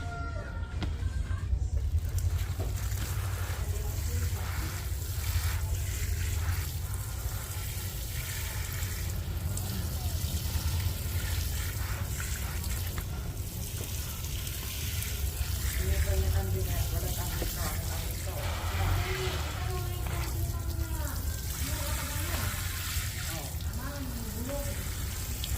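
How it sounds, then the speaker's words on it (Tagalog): Water sprinkles steadily onto transplanted pechay plants, a continuous hissing spatter under a speaking voice, with roosters crowing in the background. "So didiligan na natin, umpisahan natin dito."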